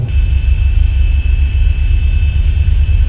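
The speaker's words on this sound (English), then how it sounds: "I'm pretty sure the 737 does not vibrate this much when you're starting up the engines." Boeing 737-8HX engines spool up in the X-Plane 11 flight simulator, a loud, steady low rumble under a thin constant high whine, unbroken throughout.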